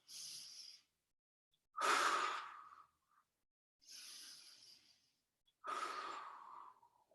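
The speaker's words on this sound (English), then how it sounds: "Inhaling for 5. Exhaling for 5." Slow, controlled breathing during a yoga floor exercise: four long breaths alternating inhale and exhale, each lasting about a second, close and fairly soft, with pauses between them and no talking.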